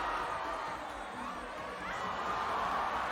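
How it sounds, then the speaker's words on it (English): A crowd at a women's FIBA 3x3 Africa Cup semi-final basketball game, Benin against Egypt, keeps up a steady, excited roar of cheering and chatter that fills the arena without a break. "And the crowd is excited."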